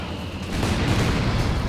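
Mortar pit shells landing in Company of Heroes 2: a short burst of rumbling impact explosions swelling into a thick, sustained roar, loud and close.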